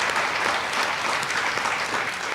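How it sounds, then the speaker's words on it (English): Audience applauding panelists at a Voices for Georgia's Children GA-CALL event, a dense, steady wash of clapping from a crowd that holds level for the whole stretch with no voices on top. "let's give all of our panelists a round of applause"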